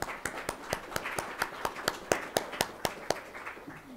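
Clapping at a master's program introduction event, a sparse steady series of about fifteen sharp individual hand claps at an even rhythm, fairly close.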